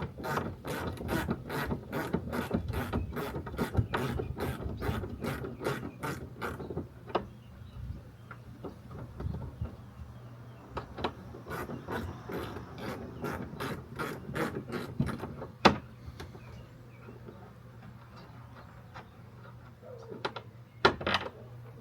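A socket wrench ratchets on stainless bolts of a Yamaha FX WaveRunner during a steering and shift cable replacement. Rapid runs of sharp clicks come in two long bursts with a quieter pause between and a few scattered clicks at the end, close and without talk.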